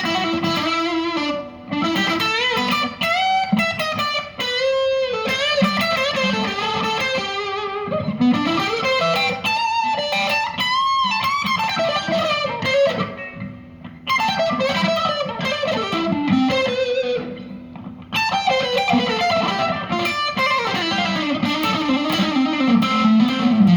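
Electric guitar with a P90 pickup played through heavy distortion, a loud sustained riff of chords and bending lead notes, close and continuous with no talk.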